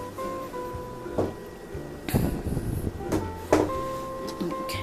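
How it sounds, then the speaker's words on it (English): A door in a hotel suite kitchen swings shut with a couple of thuds and a latch click over a quiet room hum, with brief speech around it. "and close the door."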